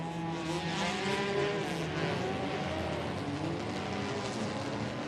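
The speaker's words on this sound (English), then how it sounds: "drivers off on that formation lap" TCR touring race cars pull away on the formation lap at Mid-Ohio, a layered drone of several engines rising and holding at moderate distance, with crowd-like ambience and no clear talk.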